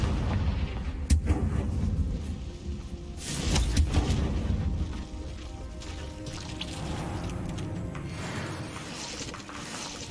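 Repeated fire-spell blasts from the Confringo charm in Hogwarts Legacy, heavy booming bursts around one and four seconds over a steady rumbling game backdrop.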